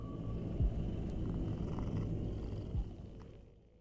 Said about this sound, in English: And yes, you can pet the cat.